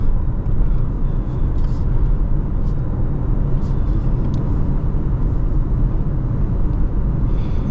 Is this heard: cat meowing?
no